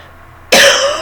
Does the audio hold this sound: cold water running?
no